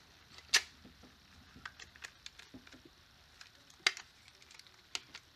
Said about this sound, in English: we're gonna carefully slot this back into the back plate here and stick the front plate back on